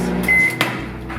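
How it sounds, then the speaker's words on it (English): A microwave oven hums steadily for a few seconds while it warms a tortilla, then its beep sounds, loud and close, with no talking. "My tortilla's already in the oven. The microwave, sorry, not the oven."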